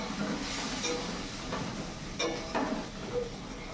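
Potatoes frying in a pan at home, a steady soft hiss and sizzle with faint stirring scrapes, fairly quiet and continuous throughout.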